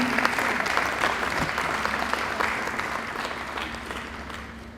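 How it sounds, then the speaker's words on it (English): Sustained applause from an audience at a Grade 8 high school graduation ceremony, dense and steady clapping that stays loud throughout and tapers slightly toward the end. "Round of applause, ladies and gentlemen."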